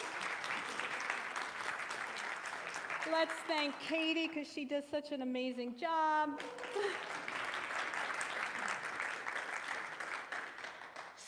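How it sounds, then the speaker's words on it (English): Audience applause at a church celebration service, a steady broadband clapping that runs the whole time, with someone speaking over it partway through before the clapping carries on alone. "Let's give him another round of applause"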